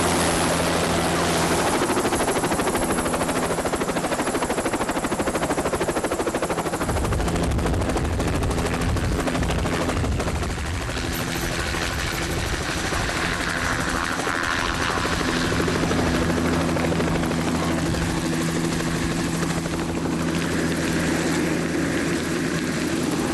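A helicopter sits in a jungle during a hostage extraction, its rotor giving a loud, continuous throbbing roar with dense rapid chopping close by. The rotor noise holds steady throughout and shifts in tone partway through.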